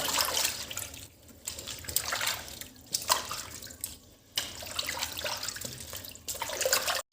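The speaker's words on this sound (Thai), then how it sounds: "ขั้นตอนสุดท้ายล้างน้ำเปล่าครับผม" Catfish rinsed under running plain water in a home kitchen, a steady broadband splash and trickle from a tap with short pauses and changes as the fish is handled, close and fairly loud with no talk.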